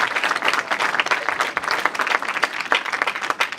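A town hall audience gathered in a house of worship applauds steadily, a full, continuous round of clapping close by with no speech over it.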